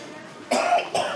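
A feverish patient with suspected Covid-19 in an emergency department coughs twice, close and loud, with a brief pause between the bursts.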